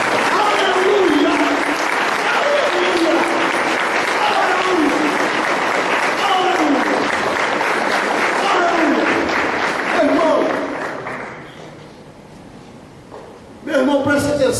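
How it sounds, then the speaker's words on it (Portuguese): A church congregation bursts into loud, sustained applause for about ten seconds, dense and close, then fades to a quieter patter before a brief final burst. "Agora eu gostaria que você desse uma salva de palmas para o Senhor"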